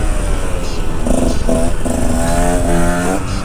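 A supermoto motorcycle being ridden on the way to school, its engine droning loud and close with rising and falling revs and gear changes, a continuous roar from start to finish.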